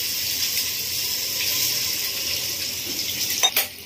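Water is poured into mutton masala cooking in oil, hissing and sizzling steadily in the pan, with a brief louder splash near the end and no talking.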